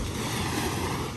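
Soft, continuous wash of gentle waves rolling onto a fine-sand beach at a resort in Morong, Bataan, steady and even with no talk.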